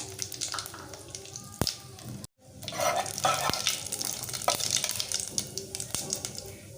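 Whole garam masala spices (shahi jeera, cloves, cardamom, a small cinnamon stick) and a bay leaf frying lightly in oil for chicken biryani, a steady close sizzle with a brief gap and small pops.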